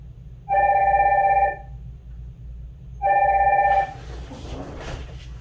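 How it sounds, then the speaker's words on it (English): A telephone rings with two electronic bursts about a second long, separated by a pause, loud and close, followed by rustling handling noise. "Incoming call."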